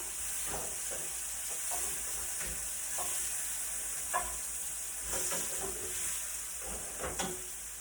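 Chicken pieces fry in a pan with a continuous hiss and sizzle, broken by occasional soft clinks and stirring scrapes. The sound is quiet and close, with no talking.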